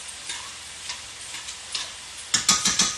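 A small spoon stirring beef stroganoff in a pot, light rhythmic clinks and scrapes over a faint simmer, growing louder in a quick cluster of taps near the end, close with no talk.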